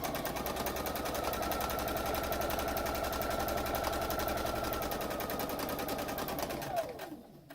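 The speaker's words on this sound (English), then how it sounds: "stitch over the elastic, back stitch, stitch forward again till I'm about 1/4 inch from the edge, pivot, and sew down to the other corner." A sewing machine runs steadily, stitching across elastic on a fabric face mask. The needle hums in a fast, even rhythm, close and continuous, then slows and winds down at the end.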